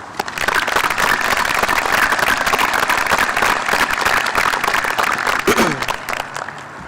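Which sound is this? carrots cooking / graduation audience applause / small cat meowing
graduation audience applause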